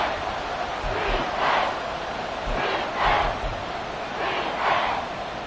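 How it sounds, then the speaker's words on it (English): A football stadium crowd at fever pitch during a tense third down. The massed cheering is loud and surges in repeated rising waves, with chant-like swells. "Work to do here with a crowd at fever pitch."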